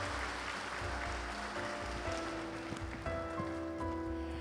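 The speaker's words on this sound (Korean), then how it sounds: "박수로 격려해 주시기 바랍니다." Congregation applauding at an Easter union worship service in Busan, a broad, rain-like patter of clapping from many hands that holds steady throughout, with faint tonal music or room hum underneath.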